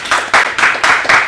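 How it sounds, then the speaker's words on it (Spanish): Studio audience applause for a guest named Jaime on a Peruvian talk show, loud bursts of clapping swelling in about four waves over a second and a half, with no talk on top. "Un aplauso para Jaime"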